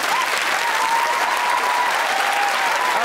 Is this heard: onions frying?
no